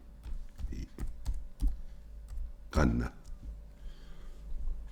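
Clicks of typing on a computer keyboard while entering a word in GIMP 2.10.20, a few scattered keystrokes close by with a burst of speech in the middle.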